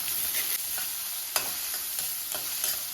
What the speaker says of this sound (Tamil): வெங்காயம் பொடியாக கட் பண்ணது ரெண்டு பச்சை மிளகாய்